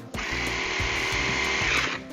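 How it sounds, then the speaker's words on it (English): A battery-powered poker saw runs on four AA batteries while cutting into a pumpkin, giving a steady, close, buzzing motor whine with a rapid reciprocating rattle for about two seconds. "The power poker saw is very easy to use and really speeds up the cutting process."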